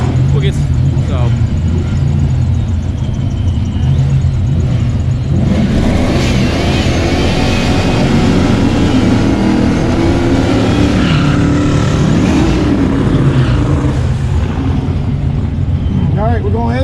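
An untuned stock-block Ford 302 car roars continuously through an eighth-mile drag-strip pass, its loud engine note climbing and shifting as it accelerates, dominating throughout with no gaps.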